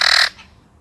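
A loud, harsh squawk from an Australian parrot lasts about a quarter second and then cuts off, leaving only faint background hiss.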